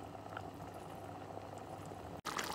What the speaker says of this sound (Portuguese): eu vou deixar ferver 10 minutos e desligo, porque ele depois continua a cozer aqui